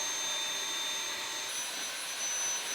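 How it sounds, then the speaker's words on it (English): A vacuum cleaner clears dust from the intake of a Molekule air purifier, giving a steady, close, high-pitched whooshing roar that holds evenly throughout without pause. "the thing I usually do is just grab the vacuum and clean it out quick"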